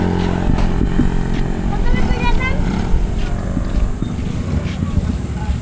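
A motorcycle engine runs loud and close for the whole stretch, a steady throbbing drone with slight rises in revving, while voices talk nearby.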